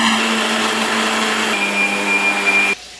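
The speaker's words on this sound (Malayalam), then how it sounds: "എന്നിട്ട് മിക്സി നന്നായിട്ട് അരച്ചെടുക്കുക" A mixer grinder blends banana, cardamom, sugar and water, giving a steady, loud, high-pitched motor whine that runs without a break for under three seconds and then cuts off sharply.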